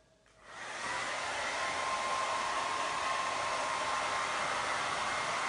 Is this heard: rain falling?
no